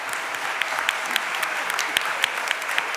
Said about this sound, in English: Can we give our women a round of applause